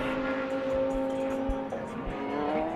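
Ferrari race cars power into a corner during a SAGTRA race, engines droning steadily with shifting pitch as they pass, a continuous loud racing roar with no talk.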